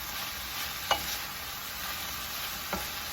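Turkey chorizo and cabbage being stirred in a hot pan over medium-high heat, a steady sizzle with two sharp utensil scrapes against the pan, no voices.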